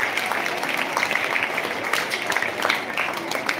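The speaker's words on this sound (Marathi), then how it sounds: "आपण सर्वांनी जोरदार टाळ्या वाजवून त्याचं अभिनंदन करू" Sustained crowd applause at a school prize-giving ceremony, a dense, even wash of many hands clapping together for several seconds without a break.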